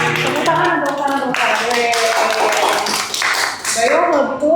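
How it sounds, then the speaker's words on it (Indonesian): A studio audience claps at the close of an Indonesian university-student podcast, with a steady patter of hands mixed with overlapping voices and laughter throughout. "Tepuk tangan."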